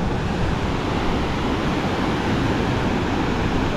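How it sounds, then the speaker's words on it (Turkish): A river near Osorno volcano, Chile, roars loud and broadband, steady and close, with no pauses or voices. "Oraya doğru akıyor nehir"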